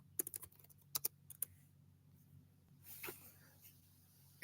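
Quick bursts of typing on a computer keyboard, a few sharp key clicks at the start followed by a quieter stretch with faint room noise and a soft rustle.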